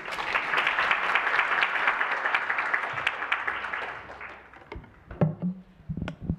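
An audience at a talk claps for a speaker in a dense burst of applause that holds steady, thins out and fades, leaving a few scattered claps and taps at the end.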